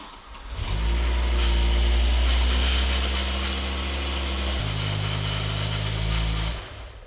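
A BMW E60 M5 V10 cranks and fires, rising into a loud, steady idle that holds for several seconds, drops to a lower settled idle partway through, then cuts off near the end, with no talking.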